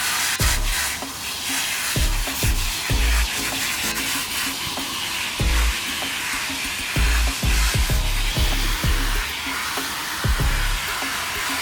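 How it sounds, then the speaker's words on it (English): A garden hose sprays water onto a dusty ducted air conditioning return air filter, a steady close broadband hiss with soft, irregular thumps as the stream shifts across the filter. "it's pushing all the dust off as we're hosing off giving it a good hose"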